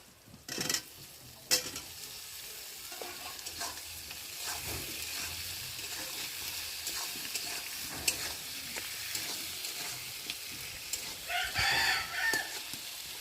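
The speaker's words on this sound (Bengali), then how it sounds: "আর এখন আমি কেটে রাখা আলুগুলোকে পেঁয়াজের সাথে ভেজে দেবো।" Cut potatoes frying with onions in a pan, a continuous sizzle broken by clattering stirs and scrapes, with a rooster crowing faintly in the background.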